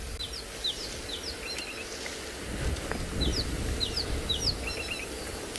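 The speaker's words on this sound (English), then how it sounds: "That noise you could hear is that of a rattling cesticula." A rattling cisticola repeats short, sharp chirping calls at a steady rhythm over a low outdoor background hum in South African bush.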